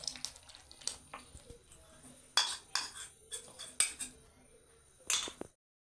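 A spoon stirs sugar into custard milk in a pot, making a scattered series of clinks and scrapes against the metal with quiet gaps between them.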